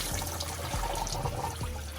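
A Miele G 646 SC Plus dishwasher starting its cycle, with water rushing steadily inside and faint low thumps, continuous and fairly close.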